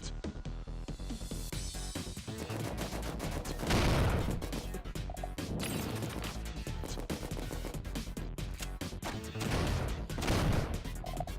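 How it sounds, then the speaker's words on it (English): Rapid explosions in an old online game, a dense continuous barrage of loud blasts and crashes with heavier surges around the fourth and tenth seconds, no talk. "Look at all those explosions."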